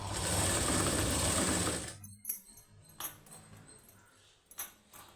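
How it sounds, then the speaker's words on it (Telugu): Sewing machine stitching the high neck of a plain blouse, a loud steady whir for about two seconds, then stopping, followed by a few faint clicks and fabric handling. "ఇలా లోపలికి పెట్టుకొని స్టిచ్ చేసుకోవాలి"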